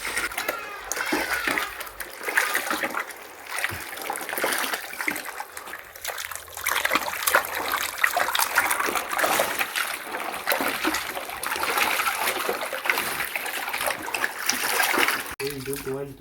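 Charcoal briquette material is mixed by hand with water, giving wet splashing, sloshing and squelching sounds that continue throughout, with voices talking over them.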